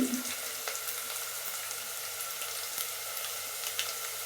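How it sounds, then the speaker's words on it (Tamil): Onions sauté in a pan for mushroom biryani, giving a continuous soft sizzle and crackle that holds steady throughout, close and moderately quiet with no talking. "வெங்காயம் நல்லா வதங்கிருச்சு"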